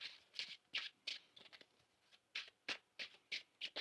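A deck of tarot cards being shuffled gives quiet, crisp riffling bursts in a steady rhythm, about a dozen quick flurries heard alone.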